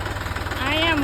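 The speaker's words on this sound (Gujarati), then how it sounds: "હાલો ભાઈ ટ્રેક્ટર બેક્ટર ને ખેડવાનું કામ ચાલુ છે" A tractor engine chugs steadily at close range while ploughing a field, a rhythmic low rumble with a rising whine near the end.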